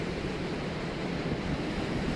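Steady ocean surf and wind roar at the bluffs by Beavertail Lighthouse in Rhode Island, a continuous broadband wash of waves with no voices, heard at moderate level.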